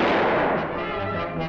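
A cartoon gunshot from a classic Woody Woodpecker episode, one loud booming blast with a short rumbling decay filling the whole brief moment.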